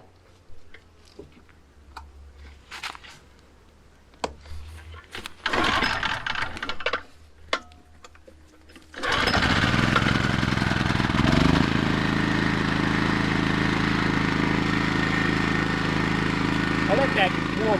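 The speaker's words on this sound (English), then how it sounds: "Start the pump up." A small-engine water transfer pump is pulled into life after some handling clicks and a brief crank, then runs at a loud, steady drone close by, with a voice speaking before it starts.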